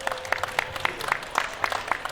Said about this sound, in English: Let's give Oren a nice round of applause.